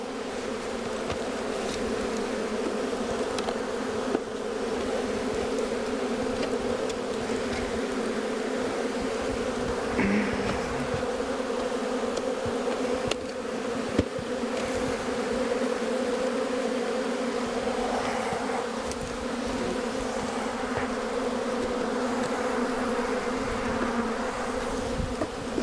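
Agitated honey bees swarm around an upset hive, a dense, continuous droning buzz with individual bees zipping close past the listener, steady and unbroken throughout.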